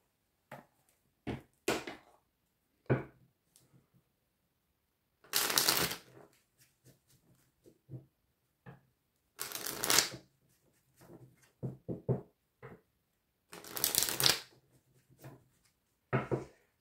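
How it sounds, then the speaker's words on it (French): Oracle cards shuffled by hand in bursts of riffling, with three louder, longer shuffles among quick taps and flicks of card handling, close and clear with no talking. "Je vais prendre quelques cartes avec le petit oracle des âmes amoureuses."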